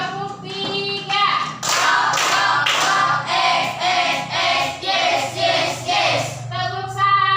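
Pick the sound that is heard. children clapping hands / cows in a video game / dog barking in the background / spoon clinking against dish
children clapping hands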